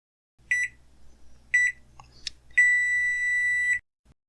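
LG MS0748G microwave oven set for a 10-second timer: two short keypad beeps, then a third button beep and a longer steady tone, with faint clicks and a low background hum.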